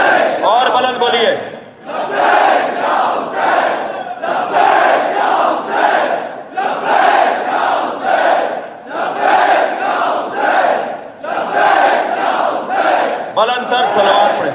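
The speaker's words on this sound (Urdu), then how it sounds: "بلند تر صلوات پڑھیں۔" A large religious gathering chants salawat together in loud, rhythmic unison, in repeated swelling phrases with brief pauses between them, filling the space.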